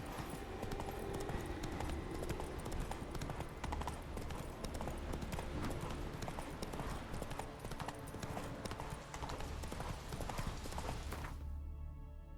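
Roach the horse galloping in The Witcher 3: a loud, continuous rapid clip-clop of hooves that carries steadily and cuts off abruptly near the end.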